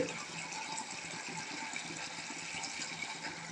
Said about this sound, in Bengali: অল্প পরিমাণ পানি দিয়ে দিল